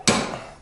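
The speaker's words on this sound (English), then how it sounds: "we're going to pick this puppy up right here in this oversized tinkering hammer" A single sharp metallic strike rings out as an oversized hammer knocks a spindle bearing out of a zero turn mower deck, loud and close with a short decaying ring.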